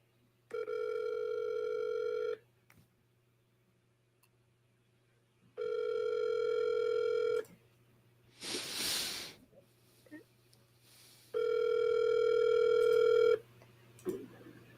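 An outgoing phone call rings back through the earpiece: three long, steady ringback tones separated by pauses, with a brief noisy rustle between the second and third rings over a faint low hum.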